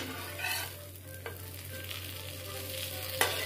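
Dosa batter cooking on a hot pan, a soft continuous sizzle with a faint low hum beneath and a couple of light clicks, quiet and close with no talking.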